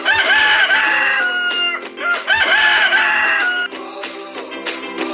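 Two loud rooster crows ring out close by, one after another, followed by softer clucking and bird calls.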